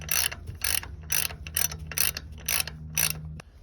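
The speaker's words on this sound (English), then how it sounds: "Decided to switch over to the socket set." A ratchet socket wrench clicks in about seven quick, evenly spaced bursts while unscrewing a part from a brake hub, close and clear, with a faint hum beneath.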